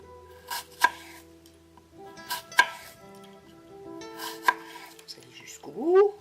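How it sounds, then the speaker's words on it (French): Knife cutting an apple into thin slices on a board, three sharp separate chops spaced about two seconds apart, each ringing briefly, with a rising clatter at the end. "Avec ces bouts, vous allez faire des tranches fines comme ceci."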